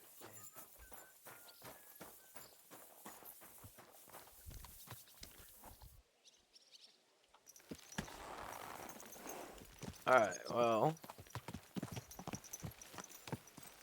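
Steady clip-clop of horse hooves at a walking pace in the video game Kingdom Come: Deliverance II, fairly close, with a brief pause and a short spoken remark near the end.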